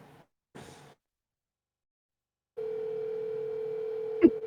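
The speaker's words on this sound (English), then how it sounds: "All right, I'm calling him." A steady telephone dial tone hums alone for about two seconds as a call is placed, ending in a sharp click, after a brief burst of talk and a pause of silence.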